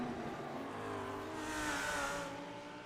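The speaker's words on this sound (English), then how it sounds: "You can hear the sounds of these cars as they rumble through the downtown" Race cars in a racing video game rumble through downtown Detroit, engines revving with rising and falling pitch as cars pass, somewhat faint and continuous, with no voices.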